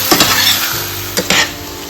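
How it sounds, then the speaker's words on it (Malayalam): Chopped banana sautés in hot ghee in a pan, giving a loud, close sizzle with a few quick scraping stirs of a utensil over two seconds and no voices. "നമുക്ക് അതിലേക്ക് കട്ട് ചെയ്ത് വെച്ച പഴം ആഡ് ചെയ്ത് കൊടുക്കാം. നമുക്കത് വഴറ്റിയെടുക്കാം."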